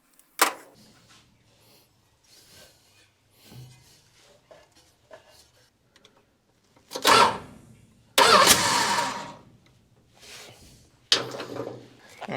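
An International truck's Hemi engine, fresh from ignition work, cranks in several short separate attempts before firing into loud, sustained bursts of running, with quiet gaps between the tries.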